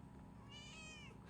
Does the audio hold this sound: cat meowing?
yes